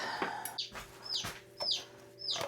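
Poultry chirping and clucking on a spring homestead, several short high calls spaced through the moment, fairly close, over a low steady hum; the calls suggest chicken sounds more than distinct baby chick peeps.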